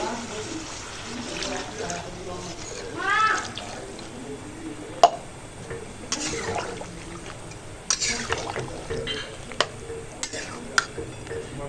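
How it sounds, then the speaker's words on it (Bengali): Water is poured into a pot of braised mutton, a rushing pour followed by a series of sharp clinks and knocks of utensils against the pot. "এবার দেব জল"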